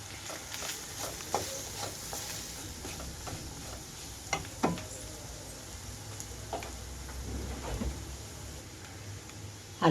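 Carrot pieces with peanuts frying in a pan, stirred with a spoon: a quiet, constant sizzle with scattered scraping clicks and taps of the stirring, fairly faint throughout.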